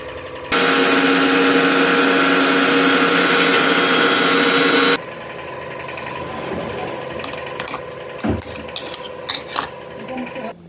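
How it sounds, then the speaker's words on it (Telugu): Mixer grinder blitzing chilli pieces for a raw mango and coconut chutney, a loud steady motor whine with rattling for several seconds, then cutting out to quieter kitchen clatter and clinks. "ఇందాక పక్కన పెట్టుకున్న మిరపకాయ ముక్కల్ని మిక్సీ పట్టుకుందాం."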